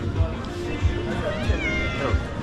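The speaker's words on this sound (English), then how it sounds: "That cat was so cute, man." A cat meows a few times in a hostel, its short mewing calls mixed in with voices and a steady room hum.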